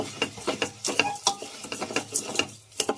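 Mutton pulusu, a curry cooked without oil, stirred in a pot with turmeric and rock salt: close, rhythmic scraping strokes about four per second, with a quiet sizzle beneath.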